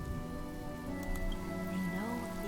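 Steady rain falls throughout a video game story cutscene, a constant hiss with low sustained music tones and no voices.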